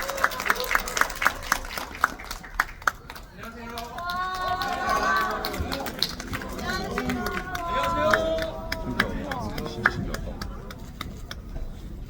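Scattered clapping from a cinema audience greets a film's director and cast on stage, with crisp claps early, then voices talking over lighter clapping and crowd murmur.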